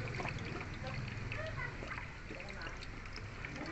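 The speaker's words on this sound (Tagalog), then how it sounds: "Ibubuhos na natin yung coolant guys." Coolant is poured into the radiator of a 2002 Mitsubishi Galant during a flush, a continuous close splashing and gurgling of liquid with a voice present in the background.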